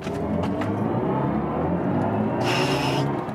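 A BMW i4 M50 electric car accelerating hard uphill, its synthesized drive sound giving a loud, steady whirring roar with a brighter high swell near the end.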